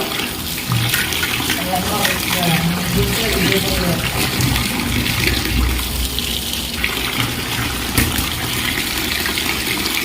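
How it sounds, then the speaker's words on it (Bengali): Tap water runs and gushes steadily while fish are washed under it, close and continuous for the whole stretch, with a voice talking over it in places. "চলো এক করে একটু মাছগুলোকে একটু ধুয়ে নিই"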